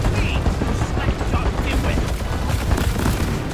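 Deep Rock Galactic gunfire rolls on as a dense, continuous rattle amid loud game chaos, with a voice speaking over the top.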